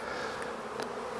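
Honey bees swarm in a dense, steady buzz at an opened hive during an early spring inspection. The close, continuous drone is heard alone, with no talk.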